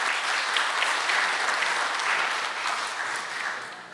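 An audience at a formal event applauding for Peru's ambassador to Chile, a dense, steady round of clapping from many hands that holds for several seconds and then eases slightly.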